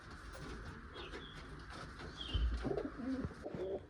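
Pair of Malawi pigeons, a hen carrying eggs, settling nervously in a new place, cooing softly: low, faint, throaty coos come in a short burst near the end over quiet background noise.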